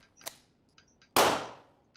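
A suppressed 3D-printed handgun fires a single sharp, loud report with a quick decaying tail, preceded by faint mechanical clicks and a small metallic tap.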